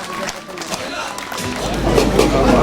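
Crowd at a political rally breaking into applause and cheering, rising from scattered sound into a louder wash of claps and voices; someone speaks over it at the start.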